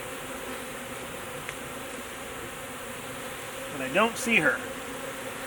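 A honeybee swarm being put into a hive box, a steady faint buzzing drone from many bees throughout, with a person speaking briefly near the end over it.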